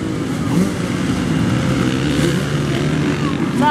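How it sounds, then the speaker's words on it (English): A dirt bike motorcycle engine running after being started at a motocross track in Scottsburg, Indiana, holding a continuous loud drone with slight rises in revs across the whole stretch. "His bike started."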